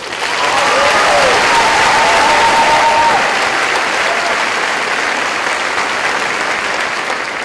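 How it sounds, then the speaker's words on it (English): A large audience at the Klein College of Media and Communications 2018 graduation ceremony breaks into sustained applause, a loud, even wash of clapping with a few faint whistles near the start. "Can we start with another huge round of applause?"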